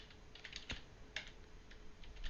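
Light typing on a computer keyboard while entering a description, a sparse, uneven run of soft key clicks, close and quiet, with no voices.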